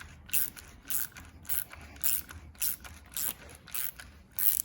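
A Facom ratchet with an extension being tightened, close rapid pawl clicking in regular bursts about twice a second, each a short ratcheting rasp with quiet gaps between.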